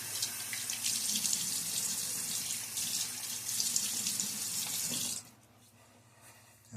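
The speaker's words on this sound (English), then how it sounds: "Let me get my face wet one more time." Tap water runs steadily into a sink while a face is wet for shaving, close and moderately loud, then cuts off abruptly near the end, leaving quiet.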